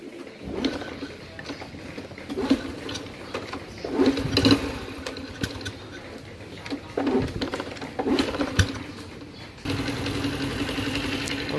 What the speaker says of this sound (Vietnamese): máy nổ cực em luôn